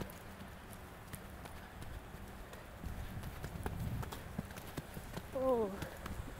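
A young horse at the end of its breaking-in, ridden over a first sequence of jumps, clip-clops with soft, irregular hoofbeats on the ground, growing louder toward the end, while a coach calls out over it.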